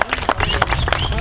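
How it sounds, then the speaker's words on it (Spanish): Audience applause for a champion at a national taba tournament, a short burst of scattered, fairly close hand clapping from the crowd. "Pido un aplauso para él."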